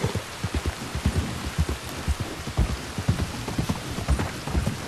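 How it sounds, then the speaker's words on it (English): Steady rain and a storm in the video game Red Dead Redemption 2, a dense hiss of falling water with scattered heavier drops pattering close by, continuous and fairly loud with no speech. "Now it's starting to rain."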